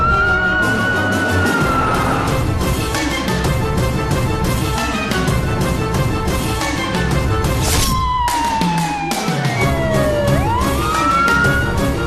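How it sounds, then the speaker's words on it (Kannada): A police jeep siren wails continuously, its tone sweeping up and down over a dense, loud background of dramatic music and rumble throughout. "ಪೊಲೀಸ್ ಜೀಪ್ ಇಲ್ಲಿಗೆ ಏನಕ್ಕೆ ಬರ್ತಿದೆ? ಊರಿಗೆ ಪೊಲೀಸ್ ಜೀಪ್ ಯಾಕೆ ಬಂತು?"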